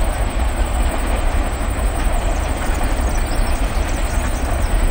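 A long freight train on a railway line rolls past close by, a loud continuous rumble with steady clattering of wagons over the rails and no voices over it.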